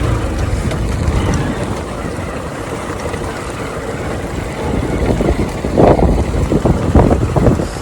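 A Honda Shine motorcycle ridden off-road gives a close, loud, steady engine drone buried in heavy wind buffeting, growing rougher and louder toward the end.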